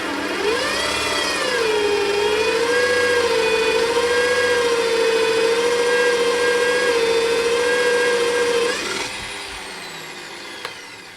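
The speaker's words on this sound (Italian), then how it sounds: "Come sentite va sotto sforzo durante il foro." A Parkside PTBMOD 710 A1 benchtop drill press strains while boring a hole, its loud motor whine sagging and wavering in pitch under load for several seconds before winding down and going quiet.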